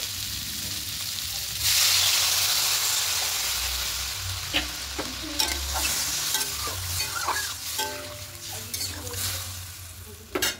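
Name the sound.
sautéing ginger, garlic, chili paste and spices with water added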